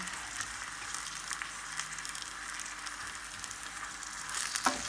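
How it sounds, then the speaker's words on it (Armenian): Steady close-up sizzling of beef frying in a hot pan, crackling evenly, with a brief louder scrape near the end and no speech. "Հիմա թող տապակվի"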